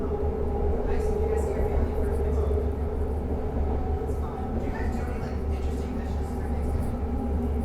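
BART Orange Line train riding along: a steady, loud rolling rumble and hum of the rail car, continuous throughout, with faint voices underneath.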